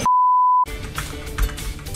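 A single sustained electronic beep sounds in the kart racing game KartRider, loud and steady for about half a second before cutting off into busy in-game noise.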